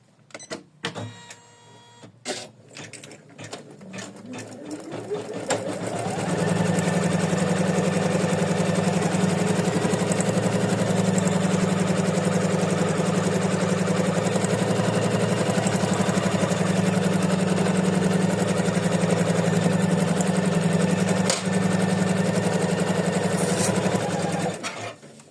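An embroidery sewing machine stitches a placement line on fabric: a few scattered clicks and a rising whir give way to a long, steady mechanical hum with a fast stitching chatter, constant until it winds down at the end.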